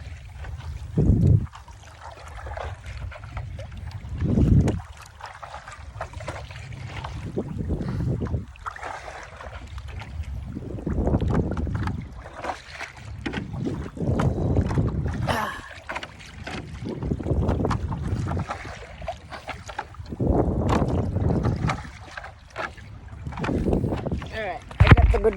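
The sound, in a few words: strong wind on the ocean while paddleboarding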